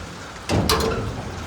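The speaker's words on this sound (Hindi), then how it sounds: "बारिश तेज़ हो गई, बहुत तेज़ हो गई" Steady broadband hiss of heavy rain pouring down, swelling suddenly louder partway through and staying dense, with no voices.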